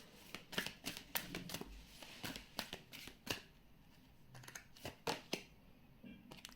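Tarot cards are shuffled in quiet, close bursts of crisp riffling and tapping, with short pauses between the rapid flurries.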